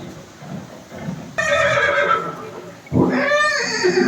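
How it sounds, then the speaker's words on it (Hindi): A horse neighs twice, loud and close, a shrill whinny starting mid-clip and a second rising, wavering call near the end, over a faint rustling background; linked to Chetak, Maharana Pratap's war horse at Haldighati. "ये दृश्य महाराणा प्रताप और सुविख्यात स्वामी भक्त घोड़े चेतक के अंतिम मिलन का है।"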